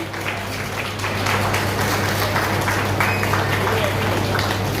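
An audience applauds at a political event, dense clapping that swells after the first second and carries on steadily, with voices mixed in.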